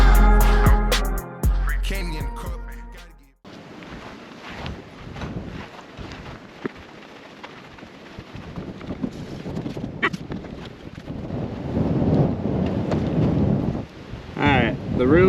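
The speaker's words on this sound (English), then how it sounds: "It's so windy out here." Strong wind buffets the microphone outdoors next to a Honda CRF150R dirt bike, a loud rumbling roar that starts after a few seconds of music and continues throughout, with some talking over it.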